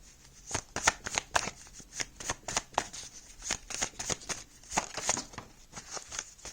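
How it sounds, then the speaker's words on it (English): Tarot cards being shuffled by hand, a close, quiet run of crisp riffling snaps and soft flutters repeating in an uneven rhythm with no voice over them. "And now I'm going to pull out one of these cards."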